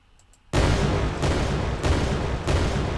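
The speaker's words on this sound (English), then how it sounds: "we'll put an explosion sound in there as well" A loud explosion effect in an Unreal Engine 4 game erupts after half a second of near silence, then rumbles on as a dense, sustained roar with several rolling surges, heard alone with no talk.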